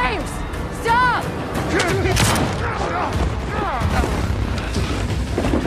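A gunshot rings out in a film scene, mixed with booming impacts and frantic overlapping voices and shouts, all dense and loud throughout.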